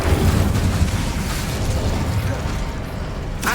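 An Incendio fire spell blast in the wizarding game Hogwarts Legacy, a loud roaring burst of noise that surges at the start and keeps a dense crackling rumble, ending with a sharp hiss.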